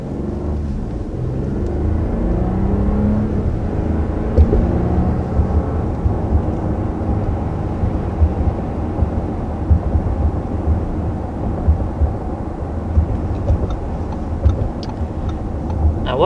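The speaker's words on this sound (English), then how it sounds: "So now let's go ahead and take it out on the road and see the changes Audi has made to the powertrain." A 2020 Audi Q7 TFSI 55 out on the road, with a steady loud rumble of engine and road noise heard from inside the cabin across the whole stretch and no talking.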